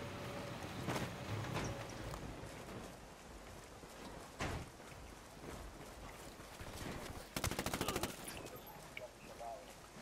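Automatic weapon fire in the shooter Tom Clancy's Ghost Recon Wildlands, with bursts scattered across the clip and a dense rapid volley near the end. A voice talks over the shooting.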